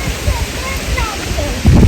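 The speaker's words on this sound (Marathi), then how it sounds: "किती हवा आहे तुम्हाला आवाज येत असेल खाडीचा" A creek flows loudly in strong wind, a dense, continuous rush of water and gusting air that stays close and steady for the whole short stretch.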